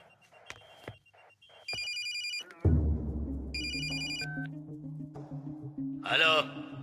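A telephone rings twice with bright, trilling electronic bursts, separated by a short gap, in a dramatic film scene backed by a low music drone and other scene sounds.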